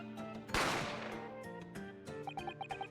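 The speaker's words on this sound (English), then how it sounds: "A gunshot rang out" A single loud gunshot in The Great Ace Attorney, a sharp burst with a decaying tail, then quieter game music and short repeated chimes.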